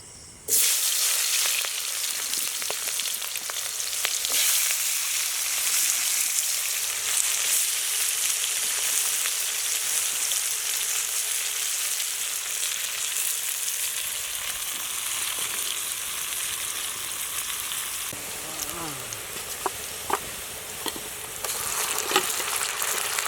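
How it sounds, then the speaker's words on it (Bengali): Chopped onions sizzle steadily and loudly in hot oil in a wok at a night-time outdoor picnic cook-up, a dense continuous frying hiss lasting throughout, with a few faint clinks of a spatula stirring toward the end. "আমরা পেঁয়াজগুলো দিয়ে দেবো তেল গরম হয়ে গেছে"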